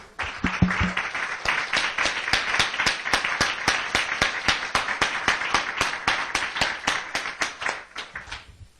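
A church congregation claps in steady unison during a Portuguese-language sermon, a loud rhythmic train of sharp, evenly spaced hand claps continuing for several seconds before stopping abruptly.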